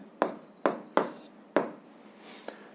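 Handwritten notes for a physics exercise, a few sharp scratchy pen strokes in short bursts with pauses between them, close and fairly quiet with no voice.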